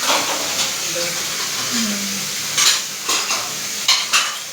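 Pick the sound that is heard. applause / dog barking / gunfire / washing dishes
washing dishes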